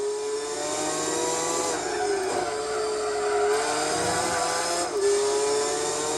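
A race car engine in Gran Turismo 4 drones loudly and steadily at high revs during an endurance race at Laguna Seca, with pitch dips at gear shifts.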